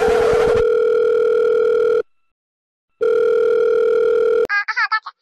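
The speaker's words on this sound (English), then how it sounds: "let me make a quick phone call real quick" Telephone dial tone from the video game Dead Frontier 3D, a loud steady hum that runs about two seconds, cuts to silence, resumes, then gives way to a brief burst of warbling electronic tones.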